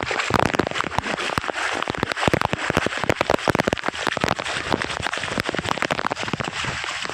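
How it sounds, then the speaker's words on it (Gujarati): Heavy rain pours on a main market street, a dense, loud hiss with sharp crackling spatters and drips hitting hard surfaces, continuous and close with no talk. "તો આ મેન બજાર છે ને વરસાદ પડે બહુ બહાટીને ધબધબાટી"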